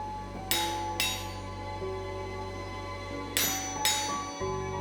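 Hot chisel struck with a hammer to cut hot steel at the far edge of an anvil while forging box jaw blacksmithing tongs; four sharp ringing metallic blows in two pairs, close and loud, with a steady hum beneath.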